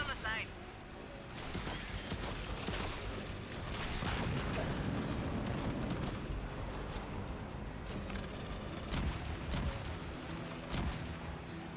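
Gunfire rattles in Aliens: Fireteam Elite as capacitors on the side are shot, with dense bursts and occasional heavier blasts running throughout beneath frequent talking.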